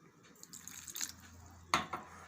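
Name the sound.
water poured into semolina batter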